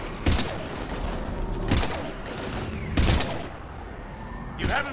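Gunfire from the Mass Effect 3 video game as husks are shot, with four loud separate bursts of shots spaced about a second apart over a constant roar of battle.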